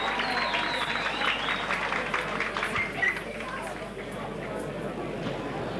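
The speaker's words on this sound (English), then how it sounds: "That's a great cheer from the crowd." A crowd at a Gaelic football match, Tinahely v St Vincents, cheers and claps in a broad, fairly distant roar that holds steady, then eases off after about three seconds into lower crowd noise.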